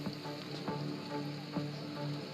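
Rain falls steadily in a Tron setting, a soft continuous patter with a few faint thumps and tones underneath.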